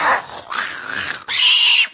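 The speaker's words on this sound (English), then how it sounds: "Get your dog! It don't bite." A dog growls and gives strained, whining yelps in three loud, close bursts over about two seconds, with no speech.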